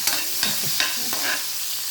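Garlic and onion sauté in hot oil in a pan, a steady close sizzle broken by a few quick spatula scrapes about every half second, with no voices.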